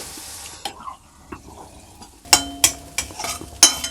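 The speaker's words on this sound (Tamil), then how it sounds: "எல்லாத்தையும் வதக்குறோம்" Lemon rice being sautéed in a pan, with a spoon stirring and scraping against the metal in several sharp knocks over a low, faint sizzle, close by and without talk.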